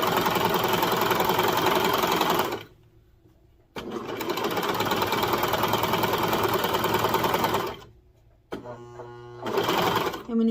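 A home sewing machine top stitching a seam on a baby bodysuit, running in fast, even bursts with two short pauses and a brief slower stretch near the end.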